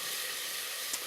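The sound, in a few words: onion sizzling in a pan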